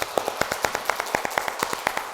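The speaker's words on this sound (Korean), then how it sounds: "우리 한번 박수 한번 치고 기도하겠습니다." A church congregation claps in a steady, even rhythm, roughly nine sharp claps per second blurring into a brisk beat, fairly close with faint room sound and no talking.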